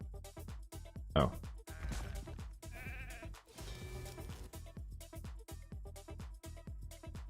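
A video game sheep ability sets off a sudden, short bleat that rises loudly for a moment. Dense game music and effects keep playing underneath it.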